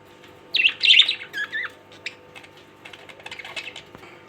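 Lovebirds kept in an aquarium cage, white and yellow birds with eggs in a nesting pot, give a burst of loud, close squawks and chirps, followed by softer scattered calls and light clicking.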